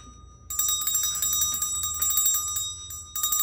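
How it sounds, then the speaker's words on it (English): A small bell is rung at a Christmas dinner table, giving a rapid, bright metallic ringing that starts abruptly, carries on for a few seconds, pauses briefly and then rings again, close and clear with no voices. "Look, there's a bell. You want to ring the bell?"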